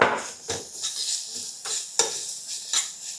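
Chopped ginger and garlic fry in a pan with onion over low heat, a soft sizzle broken by repeated scraping and clinking as a utensil stirs against the pan, with no voices.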